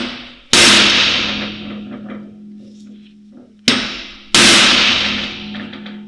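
Three sharp metallic hammer strikes on a center punch while replacing a car's ball joint, each ringing out and decaying, with pauses between the first and the final two close blows.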